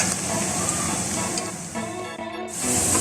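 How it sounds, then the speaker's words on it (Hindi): Onions fry in oil in a pan for chicken pulao, giving a loud, steady hissing sizzle that dips briefly and then surges back strongly near the end. "ये देखिए यहाँ हमारा प्याज जो है वो फ्राई हो रहा है।"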